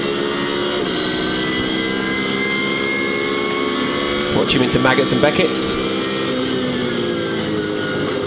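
A V8 GT race car at Silverstone during a British GT Championship race holds a loud, steady engine drone as it powers out of the pits, heard under a commentator's voice.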